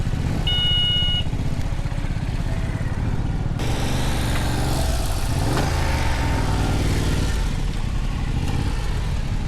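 Motorcycle engine cranking and catching after a jump-start, a rough chugging idle that swells into a louder revving roar and stays busy and close throughout.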